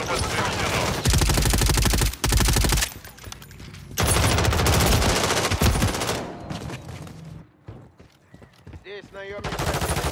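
Rapid automatic gunfire in the video game Call of Duty MW3: long, loud machine-gun bursts separated by short pauses, with sparser shots and quieter stretches toward the end.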